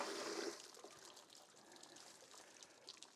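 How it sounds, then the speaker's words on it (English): Water rushes through a ram pump's pipe into a new water tank as a steady, hissing, splashing flow, loudest at the start and then settling into a continuous trickling pour. "It's a good rush of water."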